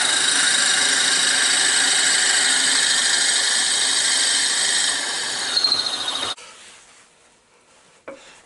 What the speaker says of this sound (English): Okay, then we can go ahead and drill it.